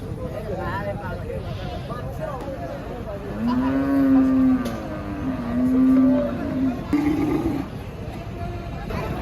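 A cow lowing at a crowded Eid livestock market, two or three long, loud moos close by over steady crowd chatter and voices.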